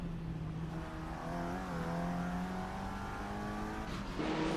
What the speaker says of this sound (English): 3 cars going into the corner, hitting the curbs quite a lot